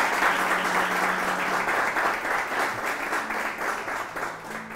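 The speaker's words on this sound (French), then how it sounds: "Merci de les applaudir." Sustained audience applause at the finale of a French artistic talent competition, steady and dense throughout, with a faint tonal murmur low beneath the clapping.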